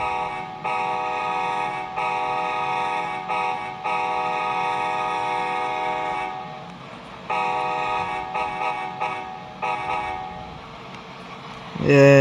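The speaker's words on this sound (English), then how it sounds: "let's go ahead and test out the horn" A loud multi-tone locomotive horn in a video game blares in long repeated blasts with brief gaps, steady and close, ending with a short burst of another sound.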